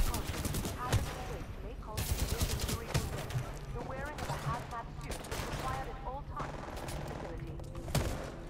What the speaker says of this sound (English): It's the heavy machine gun.